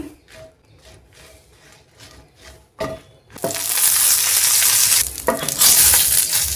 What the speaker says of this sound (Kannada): ನಾನಿಲ್ಲಿ ಒಂದು ಪ್ಯಾನ್ಗೆ ಒಂದು ಸ್ವಲ್ಪ ಎಣ್ಣೆನ ಹಾಕ್ಕೊಂಡು ಒಂದು 4ರಿಂದ 5 ಒಣಮೆಣ್ಸಿಕಾಯನ್ನು ತೊಗೊತಾ ಇದ್ದೀನಿ